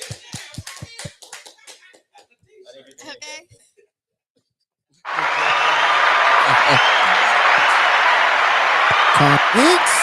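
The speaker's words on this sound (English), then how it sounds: "Can I get some hand claps for Corey McCann, y'all?" An audience at a talk show applauds for Corey McCann: scattered sharp claps and a short spoken word come first, then a pause of near silence, then loud, sustained crowd applause fills the rest.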